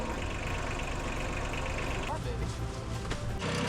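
A tractor engine idles steadily in a backyard homestead setting, a low continuous rumble with a shift in tone midway, with a voice speaking briefly over it.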